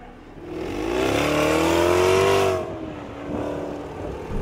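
A Lister LFT-C, a modified Jaguar F-Type making 666 horsepower, accelerates hard, with its engine note rising loudly through the revs before easing off and settling back to a lower drone.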